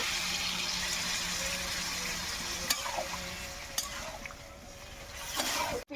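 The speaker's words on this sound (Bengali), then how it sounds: "এবার আমি জল দিয়ে দেবো।" Water poured into a pot of fried, spiced potatoes cooking for aloo dum, a steady broadband hiss and sizzle with a few sharp clinks and stirring scrapes, close and continuous before cutting off abruptly.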